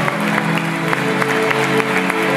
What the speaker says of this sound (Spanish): Denle fuerte aplauso a Isaac